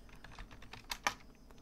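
A URL is typed on a computer keyboard, a brief run of close, crisp key clicks with two sharper taps near the end, and no talk.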